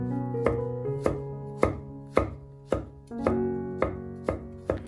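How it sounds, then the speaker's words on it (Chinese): Knife chopping shiitake mushrooms into small dice on a cutting board: about nine sharp, evenly spaced thuds in a steady rhythm, close and clear with no talking. "再改刀切成香菇丁"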